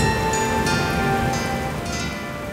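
Heavy rain pours steadily in a dense, unbroken hiss that stays loud and close throughout, with no voices over it.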